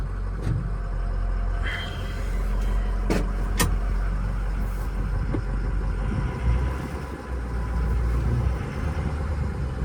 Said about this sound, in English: this truck is super smooth running and driving